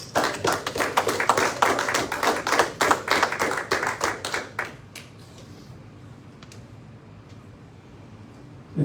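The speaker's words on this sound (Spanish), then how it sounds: "Dale un aplauso al Señor." A church congregation clapping in praise, a brisk burst of many hands for about four and a half seconds that stops abruptly, leaving quiet room tone.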